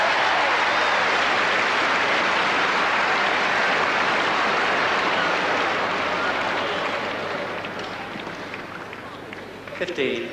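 A tennis crowd at Wembley breaks into loud, vociferous applause and cheering during a 1981 final, a dense wash of clapping that fades gradually toward the end.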